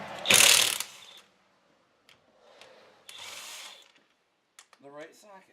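A ratchet with a 22 mm socket works on the lug nuts of a jacked-up Chevy Traverse during a rear brake job, giving short bursts of clicking with pauses between them, close to the microphone.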